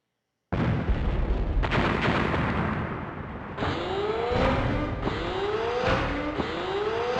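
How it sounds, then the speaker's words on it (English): A loud explosion booms in the Tokyo Mesh underground area of the game Hellnight, a broad roar with a rumbling tail and fiery crackle, followed by whooshing, sweeping debris sounds that continue for several seconds. "It sounded like an explosion."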